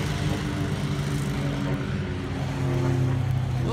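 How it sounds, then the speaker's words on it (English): A truck drives past a lawn being mowed, its steady engine drone loud and close, with harmonic hum running throughout and swelling slightly toward the end. "Oh, wow, that is a nice truck."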